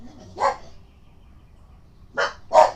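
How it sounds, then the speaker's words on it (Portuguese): Dogs bark in three sharp bursts: one early, then a quick pair near the end, fairly close against a quiet background. "Minhas meliantes estão escutando os cachorros lá do outro lado do rio e estão latindo aqui pra eles."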